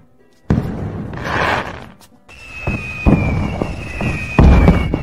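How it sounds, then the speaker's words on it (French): Fireworks burst in a string of deep booms and crackling blasts, several explosions close together with a thin whistling tone running through the middle, loud and alone. "Les feux d'artifice ne blessent personne."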